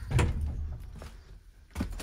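A tractor cab door bouncing open and shut: two dull knocks about a second and a half apart, the first louder, close by over faint background, no voices.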